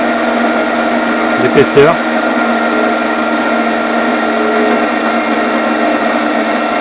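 A band saw cuts 3 mm steel angle iron with a continuous, even whirring hum that fills the whole clip, and someone speaks briefly over it.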